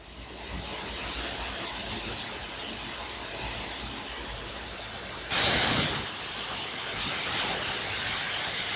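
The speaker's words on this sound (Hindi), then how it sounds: "इतना तेज ये फैन जो है ये काम करता है, 6000 RPM तक आपका फैन जाता है" Cooling fans of an Acer Predator Helios Neo 16 (2023) gaming laptop with i7 13700HX and RTX 4050, forced to full speed: a broad steady airy hiss, close up, that surges sharply louder and brighter about two-thirds through, with no speech.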